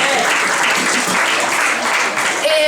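Concert crowd at an outdoor live punk rock show gives dense, loud, sustained applause with cheering mixed in, filling the whole stretch without a break.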